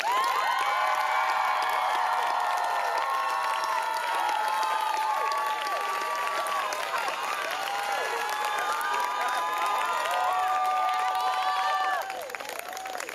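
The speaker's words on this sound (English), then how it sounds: "So definitely wanted us to give Coach a round of applause with him right in front of us." A graduation closing convocation audience gives a long, loud round of applause and cheering for the coach, dense clapping with whoops and shouts throughout, easing slightly at the very end.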